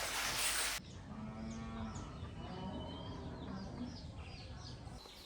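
A large sacrificial bull lowing on a farm, a deep, drawn-out moo of moderate loudness, with faint birds and fowl chirping in the background.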